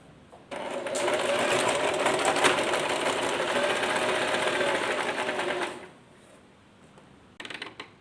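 A sewing machine runs in one continuous burst of rapid, even stitching for about five seconds while sewing piping onto a neckline, close and clear, then stops, followed by a brief clatter near the end.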